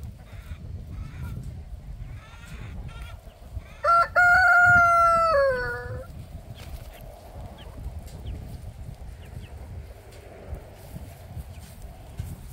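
A rooster crows once loudly and close by among backyard chickens, with faint clucks and scattered bird calls before and after over a low outdoor rumble.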